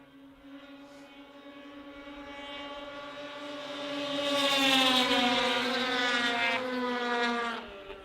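Pro Formula 500 race vehicles run down the back straightaway, a droning high-pitched engine whine that climbs in pitch and loudness as they pass closer, then shifts as another machine sweeps by near the end.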